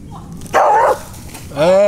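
A dog on a walk gives a loud, sharp bark, then a whiny yelp a moment later, close by with a person talking.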